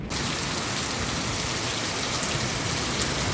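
Rain shower in Mahad with strong wind, a steady dense hiss of falling rain that holds constant and loud from start to finish with no voices.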